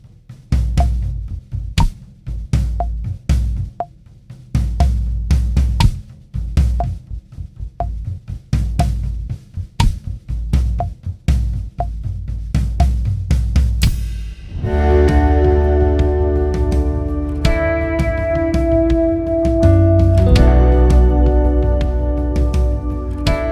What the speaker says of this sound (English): So then we're just throwing in a kick drum on beat 1,